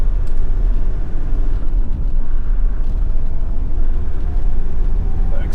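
The 2002 Land Rover Defender 90 TD5 CSW diesel engine accelerates hard, a steady, loud, low rumbling drone heard from inside the cabin, with no talking.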